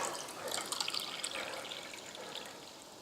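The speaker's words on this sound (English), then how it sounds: "Don't know if you heard the water noise there, but that was my app reminding me to drink some water" A water-drop notification chime from a drink-water reminder app sounds faintly and briefly over soft background noise, a light watery trickle rather than a sharp alert.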